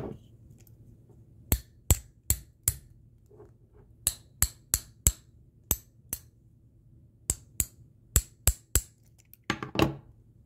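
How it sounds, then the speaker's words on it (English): Sharp metallic hammer strikes on a steel Allen wrench ring out one by one, about fifteen clinking hits in uneven bursts, close and bright against a quiet background. "we could actually demagnetize it again by hitting it with a hammer in absence of the magnetic field."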